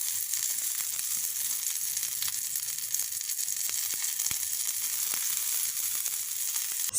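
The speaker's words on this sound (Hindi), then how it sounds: "कबाब हर तरफ से फ्राई हो चुके हैं।" Seekh kebabs fry in a hot pan with a steady, soft, continuous sizzle and occasional crackling pops, heard alone with no talking.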